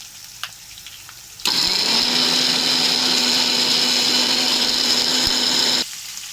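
A mixer grinder grinds spice paste for a curry gravy. Its motor kicks in sharply, runs as a loud, steady whir for about four seconds, then cuts off, with no talking.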